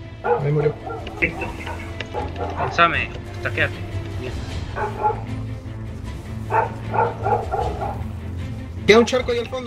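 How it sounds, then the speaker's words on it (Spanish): Dogs bark and yip in the background behind steady voice chat during a World of Warcraft mythic Xavius raid fight, with game sounds mixed in and the barking breaking through intermittently. "Perdonen los perros, por favor, si se escuchan."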